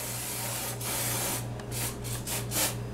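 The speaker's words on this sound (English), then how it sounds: "This is my low-fat cooking spray, and I'm going to go ahead and I'm just going to spray inside of here." Several short hissing bursts of low-fat cooking spray into a baking pan, close by, over a low background hum.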